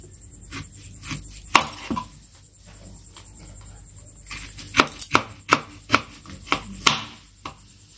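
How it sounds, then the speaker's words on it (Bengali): A knife cuts mangoes lengthwise with the peel still on, giving a series of crisp, close chopping knocks on a board: a few sparse strokes early, then a quicker run of sharp cuts later. "তো প্রথমে আমগুলোকে এরকম আমি লম্বা লম্বা করে কেটে নেব, খোলা শুদ্ধ।"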